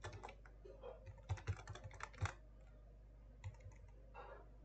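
Someone types on a computer keyboard in quiet, scattered bursts of soft key clicks with short pauses between them, faint and close, no talking.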